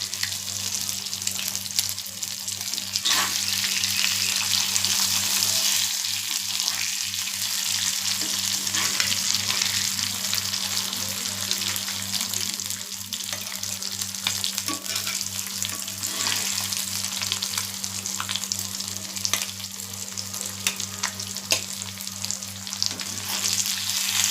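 Fish frying in hot oil with curry leaves, a loud continuous sizzle and crackle with faint scraping and stirring, steady throughout with no talking.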